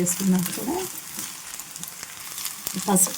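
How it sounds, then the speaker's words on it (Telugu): Grated fresh coconut fries with turmeric in a pan, a soft steady sizzle with light stirring scrapes, while a voice talks briefly at the start and end. "ఇదంతా కలిసేలాగా తిప్పుకుంటూ మనము ఈ కొబ్బరిని ఫ్రై చేసుకోవాలి."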